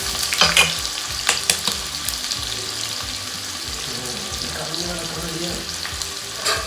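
Paneer pieces fry in very hot oil with a steady, close sizzle, broken by occasional clinks and stirring scrapes.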